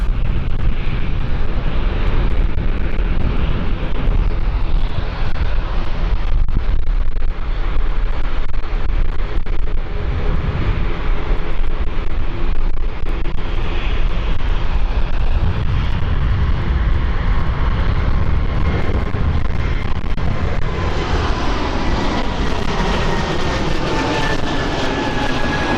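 A Swiss airliner taxis at London City Airport, its jet engines giving a loud, continuous roar with a rising whine toward the end, close and sustained throughout.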